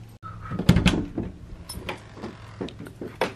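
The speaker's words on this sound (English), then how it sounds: "Oh, that was our door." A home door opening and closing indoors, a sharp knock-like thud followed by softer rattles and clicks, moderately close in a quiet room.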